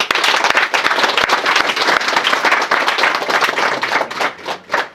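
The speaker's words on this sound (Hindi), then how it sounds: "एक बार ताली बजा दे।" Small group clapping at a Christian wedding, a steady flurry of hand claps close by that thins out and fades toward the end.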